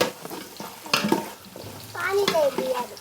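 A chef stirs Pondicherry-style biryani in a pot, with scraping and stirring strokes and some frying noise throughout, plus a few brief tonal voice-like sounds in the second half.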